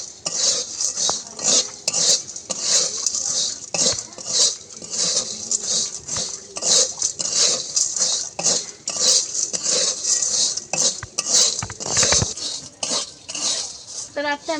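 Sugar-coated coconut chira being stirred in a pan to cool and dry, with a steady run of scraping and clinking of a utensil against the metal, continuous and close with small rhythmic bursts.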